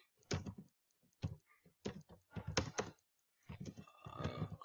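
Quiet, irregular clusters of keyboard typing clatter in short bursts separated by brief pauses, close by and alone.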